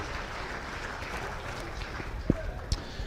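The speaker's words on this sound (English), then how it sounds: "big round of applause for all these exhibitors" Ringside applause at a county fair cattle show, a steady, distant wash of clapping from a spread-out crowd, with a couple of sharper knocks near the end.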